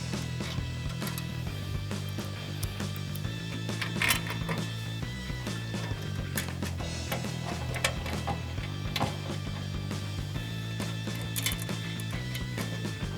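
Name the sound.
Allen socket and wrench tightening license plate bracket bolts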